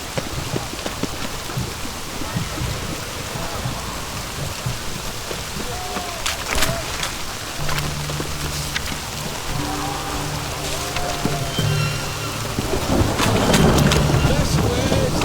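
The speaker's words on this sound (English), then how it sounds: "It's raining, of course it's going to be a catastrophe." Steady rain falls in The Witcher 3: The Wild Hunt, a constant wash of drops pattering on surfaces, with a few sharper splashes and low rumbling tones building near the end.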